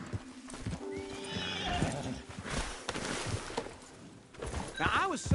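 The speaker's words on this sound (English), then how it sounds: "Don't you know how to ride a horse?" A horse's hooves clip-clop in a steady rhythm while it neighs and whinnies loudly, with people talking over the animal throughout.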